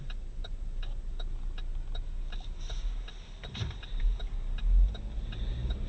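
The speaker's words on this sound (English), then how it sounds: "blinker is super easy to access" Steady, even ticking of the turn signal blinker inside a 2019 Chevrolet Equinox Premier, a crisp regular click repeating about twice a second over a low cabin and engine hum, close and clear.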